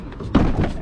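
Car door slammed shut once, a single dull thunk at close range after a brief moment of low background noise.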